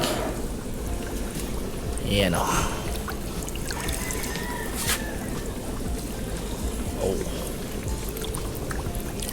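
Refill water being poured into a guppy fry tank on a guppy farm, a steady close trickle and splash running under a man's brief exclamations.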